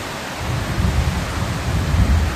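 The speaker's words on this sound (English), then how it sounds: "I wanted you to hear the rain and watch for the flashes, and then there's thunder" Steady rain pours during a thunderstorm, and a low rolling rumble of thunder runs beneath the constant hiss. The sound is close, continuous and fairly loud, with no voices.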